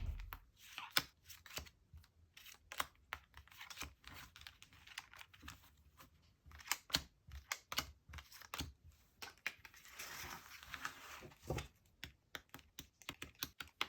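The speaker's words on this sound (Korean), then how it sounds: "카드 조금 더 뽑아 볼게요" Tarot cards are drawn and shuffled close by, producing soft, irregular flicks, slides and papery taps with short pauses between bursts, all very quiet.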